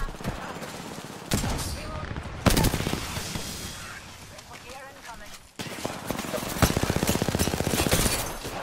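Automatic gunfire in the battle royale game Apex Legends, loud bursts of rapid shots in two main volleys, with dense action sounds and someone talking over them.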